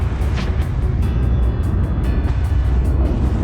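A pace truck at a dirt racetrack during open practice at the Wild West Shootout, its engine a steady, loud, low rumble that runs continuously, with wind buffeting the microphone.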